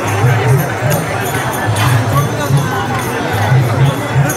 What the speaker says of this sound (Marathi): तुम्ही बघू शकता किती गर्दी आहे